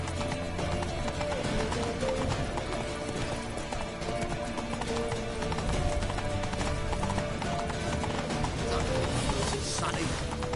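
Horse hooves clip-clop at a gallop in The Witcher 3, a steady rapid patter buried in a dense, loud mix of game music and effects.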